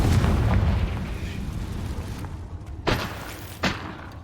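Blasting-spell explosions from the video game Hogwarts Legacy: a dense, rumbling barrage of booms fills the opening seconds, then two sharper, separate bursts ring out later, with no talk.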